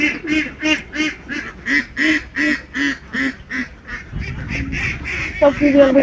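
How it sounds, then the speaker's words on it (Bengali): Ducks quack in a rapid, rhythmic series of loud calls, then a busier patch of mixed quacking with background noise. "হাঁসগুলো চড়ছে কি সুন্দর লাগছে না"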